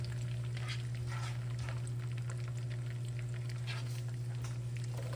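Garlic sizzles in a full stick of melted butter in a pan, a steady close frying hiss with a low hum beneath and no talk.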